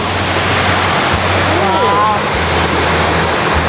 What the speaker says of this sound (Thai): มาเล่นน้ำตกตรงนี้ก็ได้นะ